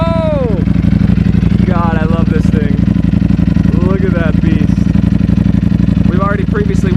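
A Ducati V4 Speciale motorcycle engine fires up and settles into a loud, steady idle, with short rising blips of throttle cutting in several times, close by.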